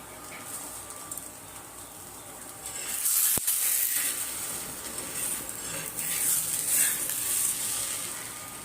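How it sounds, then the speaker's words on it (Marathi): A methi paratha fries in oil on a griddle, giving a soft, steady hiss of sizzling with a single sharp click partway through. "आता आपण तव्यामध्ये तेल टाकून घेऊया आणि पराठा हा दोघे साईडने मस्त भाजून घेऊया"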